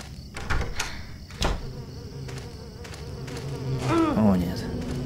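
In the video game Silent Hill 4, a low swarm of flies buzzes continuously, broken by a couple of dull thumps early on and a rising, wavering tone near the end.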